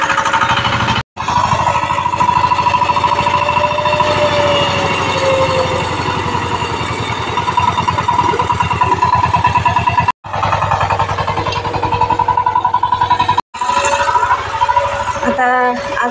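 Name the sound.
tractor engine working in field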